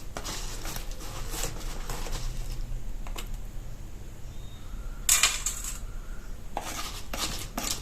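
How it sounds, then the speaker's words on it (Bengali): A spoon scoops tangy-sweet-spicy chanachur snack mix, giving light scattered clinks and dry rustling bursts, fairly close against a soft background, with no talking. "2 চামচ চানাচুর নেবো।"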